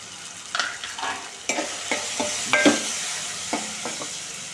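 Chopped tomato fries with onion in a pan for tomato moong dal, a low sizzle broken by repeated scraping stirs and clacks of a spoon, close and without voices.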